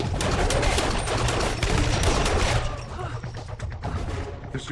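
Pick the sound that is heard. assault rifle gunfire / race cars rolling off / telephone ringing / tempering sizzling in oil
assault rifle gunfire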